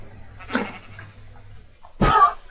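A Minecraft goat gives a short, sharp bleat near the end, after a softer, muffled call earlier, with quiet gaps between.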